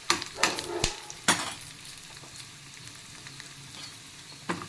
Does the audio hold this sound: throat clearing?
no